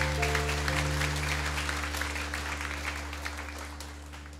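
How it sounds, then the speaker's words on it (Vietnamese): Applause from a church audience at a live acoustic hymn session welcomes a guest priest, a broad steady clatter of many hands over a low sustained hum, fading gradually. "Một tràng pháo tay thật lớn để chào đón ngài"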